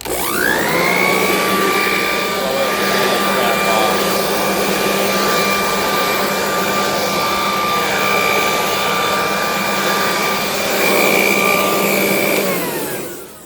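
A powerful air blower blows dirt off a car before washing, a loud, continuous roaring whine held steadily for the whole stretch, close and with no voices.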